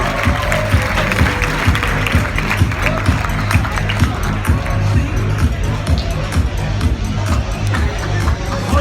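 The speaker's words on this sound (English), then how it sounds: "Give yourself a round of applause." Audience applause at a training seminar, a dense steady wash of clapping mixed with crowd noise and scattered voices, loud and continuous throughout.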